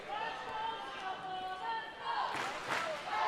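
A home crowd cheers on the Singapore side at an under-15 boys' tchoukball final against Chinese Taipei at the World Youth Tchoukball Games, steady background noise swelling into louder bursts near the end.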